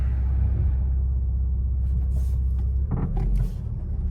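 A 2021 Infiniti Q50 with a failing transmission pulls forward in drive, giving a low steady engine rumble that briefly shifts and dips near the end, with a few faint clunks and no talking.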